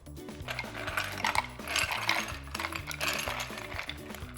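Ice cubes clinking and rattling into a pitcher of homemade lemonade with sliced lemons, a busy run of hard clinks over a low background hum, close and moderately loud.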